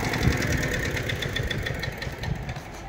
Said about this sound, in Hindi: ये था हमारा 5 HP वाला ट्रैक्टर